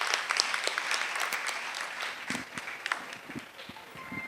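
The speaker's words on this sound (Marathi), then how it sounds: "जोरदार टाळ्या यांच्यासाठी." Lively audience applause at the Medibeats 2026 event, a dense patter of many hands with sharp individual claps standing out, swelling and dipping slightly over a few seconds.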